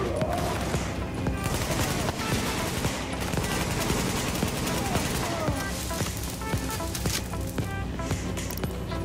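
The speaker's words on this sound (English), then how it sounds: "Shooting, that was you, right?" Continuous rapid gunfire and explosive bursts from a firefight in the video game The Division, dense and loud throughout with no gaps.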